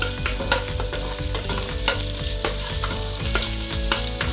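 Garlic and onions frying in a pan for bistek tagalog, a steady dense sizzle with repeated scraping stir strokes, close and fairly loud, no voices.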